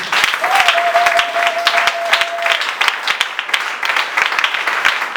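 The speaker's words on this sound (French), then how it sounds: "Acclame un peu Jésus" Church congregation applauding to acclaim Jesus, a dense, steady wash of many hands clapping close by for several seconds, with a brief sustained tone sounding under the clapping early on.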